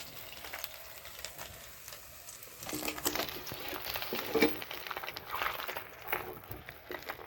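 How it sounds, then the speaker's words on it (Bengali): Fish fry in oil in a pan, a soft sizzle and patter that swells partway through as more pieces go in, fairly quiet and continuous without speech. "বাকি যে মাছগুলো ছিল ওগুলো ভেজে নিচ্ছি"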